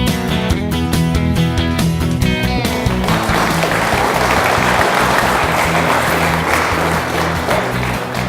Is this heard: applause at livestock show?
yes